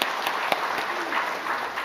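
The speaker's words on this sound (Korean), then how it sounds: "우리 성도 여러분 뜨거운 감사 박수 합시다" Church congregation applauding in thanks, a steady broadband patter of many hands filling the sanctuary for a couple of seconds.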